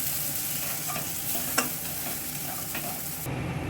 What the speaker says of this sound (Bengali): এবার এটাকে ভালো করে ভাজতে হবে, লাল লাল করে